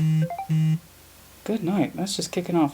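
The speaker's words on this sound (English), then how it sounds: "I forgot to put my phone on silent" A mobile phone left off silent gives two short electronic notification beeps, followed after a pause by a person talking.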